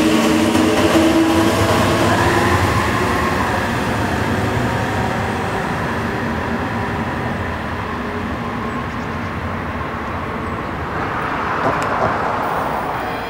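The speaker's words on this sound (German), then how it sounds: "Jetzt habe ich gerade noch den Zug, der da von Konstanz kam, hier in Engen erwischt." A train from Konstanz rolling through Engen station, a loud, steady rumble of wheels and carriages with faint clatter that holds for the whole stretch, easing slightly toward the end.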